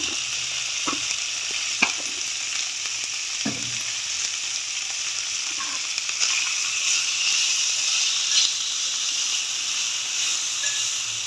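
Spiced food sizzles and fries steadily in an AMC cooker, with occasional scraping clicks from a spoon stirring the pan, close and continuous with no talking.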